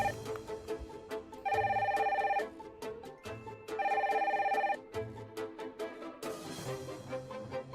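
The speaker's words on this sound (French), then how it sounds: "Vite, le téléphone!" A toy telephone in a Playmobil Secret Story episode rings twice, each ring a long, bright trill. Lighter taps, clicks and background music fill the gaps between rings.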